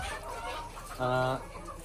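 Active layer hens in a poultry building let out a single short, clear cluck over a low background murmur of barn noise and faint voices.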